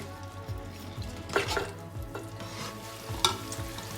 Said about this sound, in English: You need to fry it, so you don't want it to burn, right?